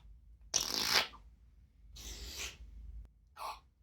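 Three short, breathy bursts of noise, a parrot imitating a fart, the first loudest, separated by brief pauses in an otherwise quiet room.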